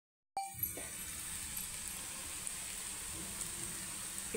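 Chopped onion sizzles in hot oil with a pinch of salt, a sudden hiss at the start settling into a steady close crackle of frying.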